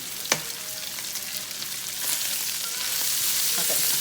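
Country Crock butter sizzling in a pan while macaroni is made, a close bright hiss that swells louder toward the end, with a single light clink early on.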